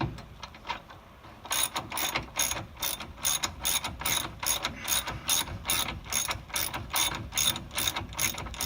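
A ratchet wrench clicks in steady, rapid repeated bursts while removing a tie rod end on a GMC Sonoma, close and fairly loud, after a quieter first second and a half.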